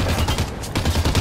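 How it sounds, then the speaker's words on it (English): Rapid, loud gunfire rattles in a close, dense volley during a Halo 5 Warzone match, the bursts running together with brief pulses and no talking heard. "They tried shooting me while I was in the rec station."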